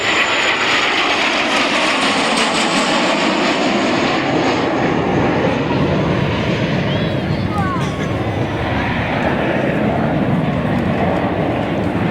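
An aircraft's engine roars loudly and continuously as it passes display center at an air show, a broad steady drone with a shifting whine, while an announcer talks over it.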